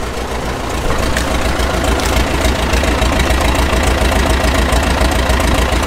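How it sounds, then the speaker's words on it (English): Straight-piped John Deere 6000 Highboy sprayer engine roaring loud and close, a steady low rumble revved up and held high throughout with no pauses. "now I have a straight piped 6000 Highboy. Let's rev her up a little bit."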